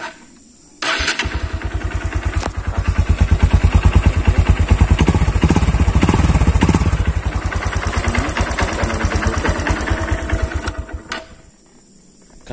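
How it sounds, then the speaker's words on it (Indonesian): A Honda CB150 Verza motorcycle engine starts up close and runs loudly, its pulsing throb rising through revs and settling back before cutting off, with no talk over it. "Oke, kita dengarkan raungan mesin."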